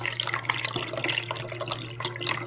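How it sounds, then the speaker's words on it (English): Water poured through a funnel into the reservoir of a MondoVAP 2400 vapor steam cleaner makes a steady trickling splash that runs without a break, with a low hum underneath and no voices. "So we're gonna unscrew the cap, use their handy dandy funnel, and see how much water we can fit in here."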